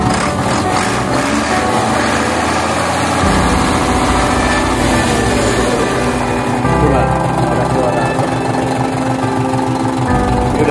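A 2013 Hino Lohan FM 320 TH tractor-head truck idles while warming up, its loud, steady diesel rumble filling the whole stretch up close with a constant mechanical chatter.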